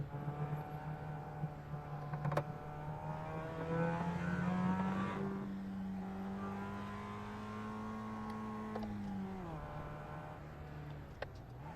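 Mazda MX-5 Cup race car engine in a racing video game, held at steady revs on an easy out lap at Summit Point's Jefferson Circuit, droning continuously with a brief rise in pitch and then an easing off, no voices.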